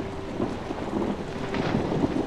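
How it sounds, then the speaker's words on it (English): Rain and low thunder rumbles in the horror video game Outlast: a dense, steady hiss of rainfall with soft rolling rumbles swelling and fading, moderately loud, with no voices. "oh, it's raining."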